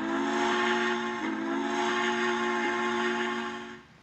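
A Frisco 1522 steam locomotive whistle in the Trainz game sounds as one long, loud, steady chime-like blast held for about four seconds before fading at the end.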